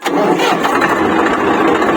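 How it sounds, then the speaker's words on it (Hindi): A tractor engine fitted with a push-button touch start cranks and catches, then settles into a loud, steady mid-pitched running rumble close to the microphone. "अगर हम नॉर्मल प्रेस करके भी छोड़ते हैं ना, तब भी ये ट्रैक्टर जो है स्टार्ट हो जाएगा"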